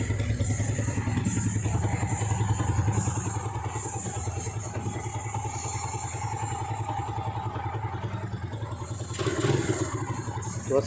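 A Honda Wave 125 motorcycle idles steadily with a smooth, quiet engine hum and even mechanical ticking, heard close and fairly faint throughout, with a slight rise near the end.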